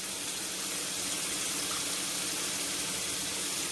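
Saffron water poured through a sieve into a seafood paella stew, a continuous close gushing, splashing trickle that stays steady and fairly loud from start to finish, with no talking.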